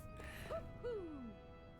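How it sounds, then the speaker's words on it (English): A faint owl hoot in Tales of Arise, heard as two soft, tonal calls with the second drawn out and sliding downward, over a quiet game background. "I heard an owl."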